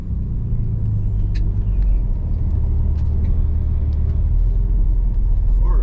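Turbocharged Nissan 300ZX driving slowly through a yard with a fully manual clutch and no brake booster, its engine a steady, loud low rumble held close throughout, with faint light clicks above.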